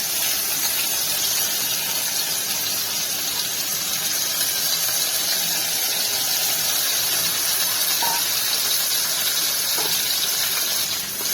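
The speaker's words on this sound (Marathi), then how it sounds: "तांदूळ एकसारखे भाजून घ्यायचे। तांदूळ तुपात भाजून घेतले की चविष्ट खीर तयार होते।" Rice sizzling in ghee in a kadhai over medium heat while being roasted for kheer, a continuous loud hissing fry that stays even and close throughout.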